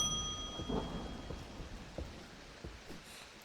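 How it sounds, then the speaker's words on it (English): Distant thunder rumbles under steady rain in the game Strange Antiquities, with a few soft thuds and a faint high tone fading out early. "Sure is thundering."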